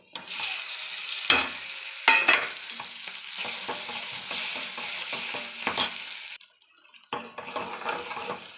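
Goat brain fries in a pan with ginger garlic paste and turmeric, giving a soft sizzle broken by a spatula scraping and clanking against the metal pan, with a brief pause before the stirring resumes.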